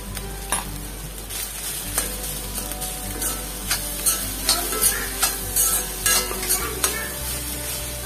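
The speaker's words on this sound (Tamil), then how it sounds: "கொஞ்சம் ஹை ஃப்ளேம்ல வச்சு நல்லா வந்து பரட்டி விடுங்க" Leftover rice and masala stir-fried in a pan over high flame, a constant sizzle with a regular rhythm of spatula strokes scraping the pan, close and clear.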